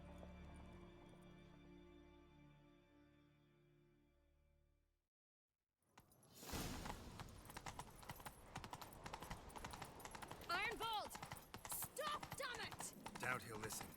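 A sustained musical tone fades to a short silence, then rapid, rhythmic horse hoofbeats gallop loudly and continuously in The Witcher 3 video game, with a few brief vocal sounds mixed in.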